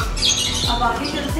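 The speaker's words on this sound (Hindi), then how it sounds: "ये तोता शायद अरबी बोल रहा है" A parrot in a pet shop gives a loud, harsh squawk that repeats through the moment, up close over steady background hum while someone talks.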